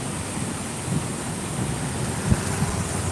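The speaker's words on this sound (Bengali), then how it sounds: "জলের গর্জন শুনতে পাবে" Monsoon floodwater of the Damodar river pours through the Durgapur barrage as a dense, unbroken roar with rain-like hiss, loud and close, carrying a few low thuds.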